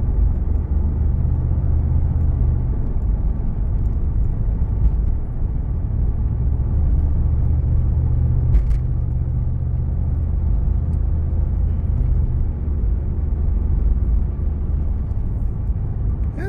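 A bright yellow 1985 Chevrolet Camaro IROC-Z cruises along the road, its engine a steady low rumble with constant road and wind noise heard from inside the cabin.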